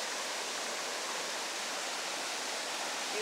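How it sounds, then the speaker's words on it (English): Water from a power plant outlet gushes into a river, making a steady, loud, broadband roar that stays constant throughout with no pauses. "See that big chunk of water comes out?"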